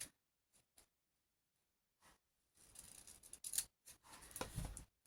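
Scissors cut paper for a pop-up card: a few faint, isolated snips close by, then a longer run of crisp rustling cuts, quiet overall, with no speech.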